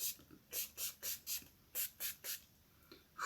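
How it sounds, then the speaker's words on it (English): A makeup finishing spray bottle hisses in a quick series of about ten short bursts onto a face, soft and close, with brief pauses between puffs. "we're going to spray the heck out of our face with some finishing spray"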